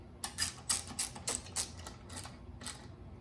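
Tightening down a part during repair of an Exmark ECXKA21 push mower, heard as a rapid series of about eight close metallic ratcheting clicks that slow and fade toward the end.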